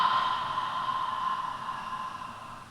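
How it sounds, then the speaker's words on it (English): Steady ujjayi yoga breath, a soft constricted hiss with an airy, ocean-like rush, held continuously at close range and fading slightly toward the end, with no talk. "So you might already have heard that the sound of my breath changed."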